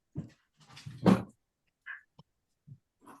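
A dog at home during an online meeting gives a few short barks and yips near the start, followed by softer scattered whimpers and small noises with pauses between them.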